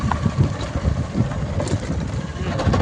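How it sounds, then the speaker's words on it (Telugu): A Honda Unicorn motorcycle on the road gives a steady low engine rumble, heavily buffeted by rushing wind across the microphone, throughout. "ఈ హోండా యూనికాన్ బైక్"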